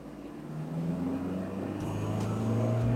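A Toyota Kijang Innova Reborn engine revs up under throttle, its steady low drone rising in pitch and holding loud and near for the whole stretch with no talk.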